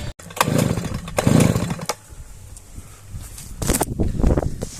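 Svityaz BT-430 petrol trimmer failing to start: several short bursts of a two-stroke engine cranking and sputtering, each dying away after a second or so, close and loud, with rustling between attempts.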